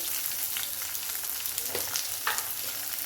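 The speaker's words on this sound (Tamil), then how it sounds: "ஒரு பெரிய வெங்காயம் போட்டு மீதி எல்லாம் சின்ன வெங்காயம் போட்டிருக்கேன் கூட ஒரு நாலு பல் பூண்டு போட்டுக்கிறேன்" Onions, shallots and garlic cloves sizzle in a pan, a steady close crackle with faint stirring scrapes and no talking.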